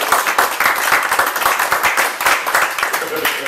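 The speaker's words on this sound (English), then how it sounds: "Round of applause, please," Audience applause and clapping at a live comedy or lecture talk, a dense steady patter of many hands filling the room for several seconds, with some voices and cheers mixed in.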